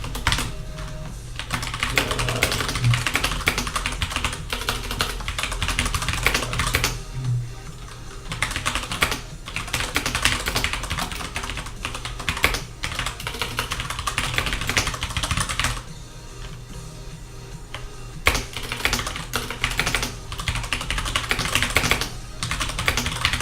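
Steady typing on a computer keyboard, dense bursts of key clicks running almost continuously with a few short pauses, close and fairly loud, no talking.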